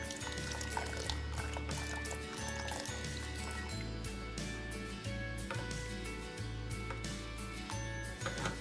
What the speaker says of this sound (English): Then slowly add in your cornstarch water mixture.